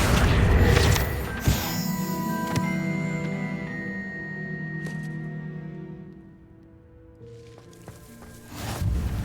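The Confringo fire spell in Hogwarts Legacy on PS5 lands as a booming blast, followed by a long ringing, sizzling magical tail that fades out, then another burst of game sound at the end.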